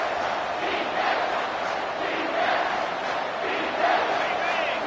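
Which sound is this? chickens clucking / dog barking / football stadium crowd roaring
football stadium crowd roaring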